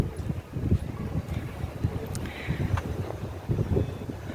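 Steady wind roars and buffets the microphone in low rumbling gusts, with a faint outdoor background and no speech.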